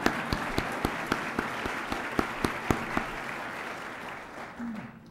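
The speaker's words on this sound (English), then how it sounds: "I'm going to break my own rule and applaud Carolyn" An audience at a UCF White Coat Ceremony applauds for Carolyn Roberts, a short burst of scattered claps in a large room that starts crisp and thins out over about five seconds, with a faint voice near the end.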